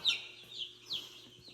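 Laying hens give soft, scattered clucks and short calls at a modest distance, a few brief bursts over a quiet farmyard background.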